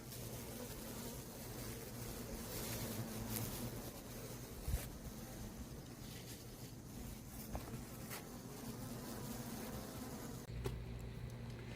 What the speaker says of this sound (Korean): 자, 말벌채에 말벌 체포됐습니다.